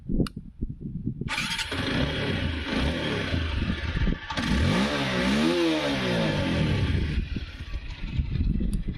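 A new TVS Apache motorcycle starts up after a short crank, then its engine revs repeatedly, rising and falling in pitch, loud and close, before dropping back to a sporty idle.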